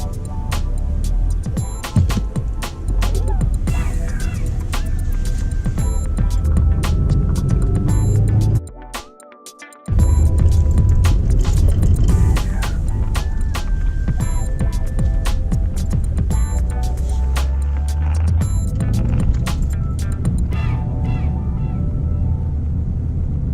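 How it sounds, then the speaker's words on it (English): A 2016 Ford Focus SE reverses with the accelerator floored, its engine producing a loud, steady rumbling drone that holds for most of the stretch, briefly cutting out partway through before the strain resumes. "it won't let me go past 18 miles an hour and I'm flooring it"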